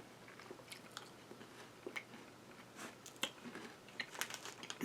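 Soft, close biting and chewing of an old granola bar taken from a long-stored cache, its texture gone less crispy, with quiet irregular crunches and mouth sounds throughout.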